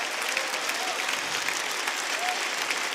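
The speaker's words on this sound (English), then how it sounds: "Please give a big round of applause to Simon Emilian." A large audience claps steadily and densely throughout at a Rainbow Six Siege reveal panel during the R6 Invitational, a continuous even wash of applause with no voices standing out.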